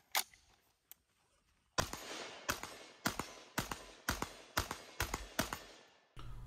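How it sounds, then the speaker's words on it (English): Brownells BRN-180 Gen 2 upper, OD green, firing about eight sharp gunshots in an uneven string at roughly half-second gaps, loud and close after a quiet start with a couple of faint clicks. "First shots with a BRN-180."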